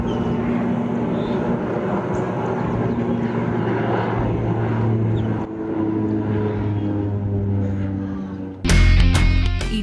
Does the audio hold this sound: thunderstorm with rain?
no